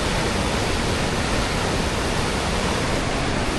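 Rushing water pouring through an old hydroelectric channel in Croatia: a loud, dense, unbroken roar of churning flow, close and steady throughout, with no voices.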